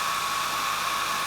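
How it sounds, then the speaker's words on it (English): A hairdryer on its low setting blows steady broadband air noise, drying watercolour paint on paper, with a constant whoosh held at even loudness throughout and no voices. "This is the safest way to do it, and it's with a hairdryer, and you just literally put it on low"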